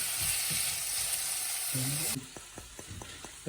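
A potato and fish mixture for fish tikki fries in a pan with a steady, close sizzle, joined near the end by a few soft scraping stirs of a spatula.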